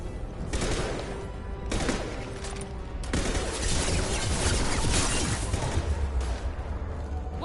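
Weapons firing in Mass Effect 2 in heavy repeated bursts, loud broadband blasts with short gaps between the early volleys, then a sustained barrage that rolls on continuously through the rest of the stretch.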